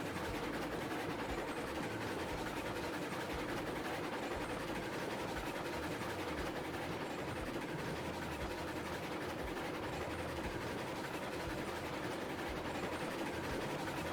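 Long train rolling on rails in the Railroads Online video game, a continuous low rumble with steady rhythmic wheel clatter, sustained and even throughout without talk.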